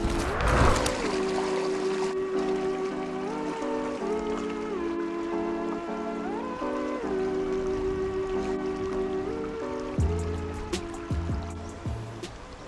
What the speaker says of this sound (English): there's like a full new creek stream coming in through here that wasn't there before